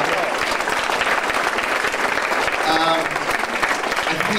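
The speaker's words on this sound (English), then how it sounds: "could we have a round of applause" A room of wedding guests breaks into sustained, dense applause, a steady wash of clapping at close range with a few voices and cheers mixed in.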